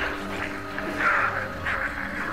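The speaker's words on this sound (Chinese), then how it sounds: "外面有僵尸在叫唤，你听见没有？" Zombies groan outside in the VR game Arizona Sunshine 2, a muffled, rasping chorus of moans that rises and falls twice at moderate distance, fairly faint.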